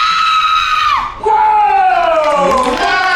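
Women at a special effects show let out long, loud, sustained horror-movie screams, one after another, each held and then sliding down in pitch, with a brief gap in between.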